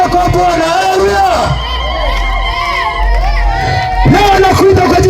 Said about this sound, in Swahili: Hebu pigia makofi na vigelegele kwa Bwana